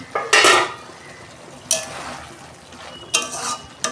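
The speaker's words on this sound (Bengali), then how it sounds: "দেখুন বন্ধুরা, আমি ঢাকনা খুলছি।" Metal lid lifted off a cooking pot of potatoes on a gas stove, with three separate bursts of clattering metal scrape and clank spaced apart, loud and close.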